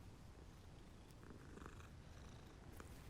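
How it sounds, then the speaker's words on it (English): Cat purring while being petted in Hogwarts Legacy, a steady low rumbling purr that carries on through the whole stretch, close and even, with faint game ambience above it and no voices. "pet the cat"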